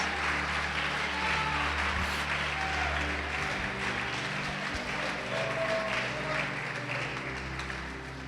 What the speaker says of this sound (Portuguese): Vamos aplaudir e glorificar o nome do Senhor Jesus.